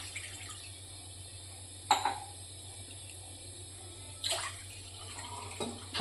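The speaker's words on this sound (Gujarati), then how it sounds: "ચાલો આપણે લાપસી બનાવવા માટે પેલું પાણી નાખીશું." Water is poured into a pot to make lapsi, sweet cracked-wheat porridge, in a quiet kitchen, with two short splashing bursts and a faint third one over a low background hum.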